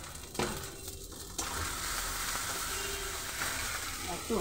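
Sweetened kharkol leaf paste sizzles and fries in a pan while being stirred, making a steady close hiss with occasional scraping, and a brief clunk at the start.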